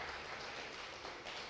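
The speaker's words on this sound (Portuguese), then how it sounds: "Aplauda ao Senhor Jesus nessa noite, irmãos." A church congregation applauds during an evening worship service, a steady, dense wash of clapping that fills the whole moment without pause.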